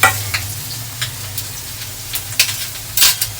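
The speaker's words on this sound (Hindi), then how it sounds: "और अब इस प्याज को इसमें डाल देंगे" Finely chopped onion frying in a pan, a soft steady sizzle broken by a few sharp stirring scrapes and clinks, close and on its own without talk.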